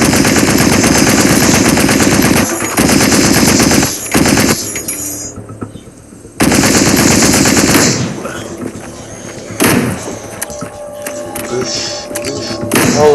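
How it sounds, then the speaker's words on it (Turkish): A mounted machine gun firing in the zombie game Into the Dead, loud sustained bursts of rapid gunfire broken by short gaps and softer stretches. "Ayaklı makine tüfeği kullan."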